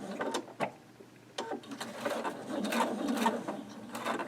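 A home sewing machine takes a few short back stitches while piecing a Lemoyne Star quilt block, giving brief mechanical bursts of whirring and clicking separated by pauses, close and fairly quiet.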